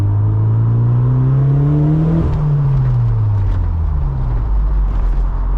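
A Toyota MR2 Turbo engine winds up steadily under acceleration in second gear, briefly dips at a gear change, then climbs again with a droning exhaust note and road noise.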